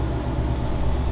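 A loud Ford Mustang engine runs with a steady low rumble and continuous drone, close and unbroken across the short stretch, with no talking over it.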